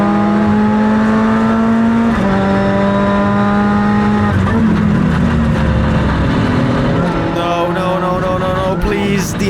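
A Lotus Elise race car in a racing video game at Mugello runs loud and continuous, its engine sounding rough and unhealthy as the pitch climbs and drops through gear changes.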